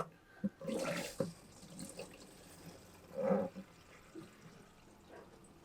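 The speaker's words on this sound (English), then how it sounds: "flushing the system, and you can already see this is actually not salt water, but fresh water out of our water tank" Boat watermaker being flushed with fresh water from the onboard tank, producing soft, intermittent gushes and splashes of running water with quiet pauses between.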